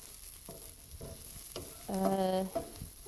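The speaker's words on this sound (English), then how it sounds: "staring at onions with frying noises" Onions sizzle steadily in a frying pan with a constant hiss, while a utensil scrapes and stirs at intervals; a brief tonal squeak rises midway.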